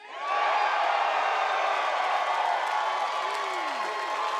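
Large stadium crowd of Seahawks fans roaring and cheering, a loud sustained wash of voices that swells quickly and holds for several seconds.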